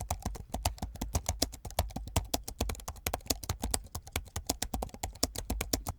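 Fingers type steadily on a computer keyboard entering a prompt, a fast, close run of crisp key taps with no talking.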